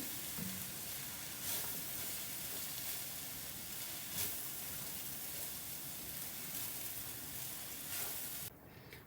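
Mushroom and spring onion fried rice sizzles in a pan over lowered heat with a steady close hiss. Faint scraping stir strokes come through now and then, and no one speaks.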